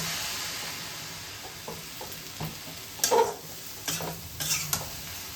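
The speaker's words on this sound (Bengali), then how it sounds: "শুকনো মরিচ সম্বাস দিয়ে বসিয়েছেন আর কি। একটু জল দিয়ে এটাকে সুন্দর করে সাঁতলাচ্ছেন।" Chili powder and dried chilies sauté in a pan with a splash of water while pickle is being made: a quiet, steady sizzle broken by several sharper scrapes and clinks of stirring that grow busier toward the end.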